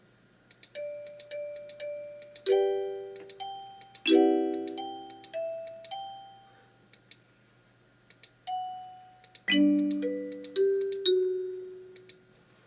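Kalimba tablature plays back in KTabS software as a sequence of bright, bell-like plucked tines, single notes and small clusters ringing out and decaying in a slow, halting melody with no voices.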